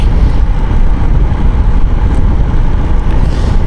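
A 4V motorcycle engine while riding, a loud continuous drone mixed with heavy wind rush, steady with no gear changes.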